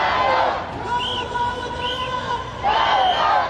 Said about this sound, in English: large crowds of spectators cheered them on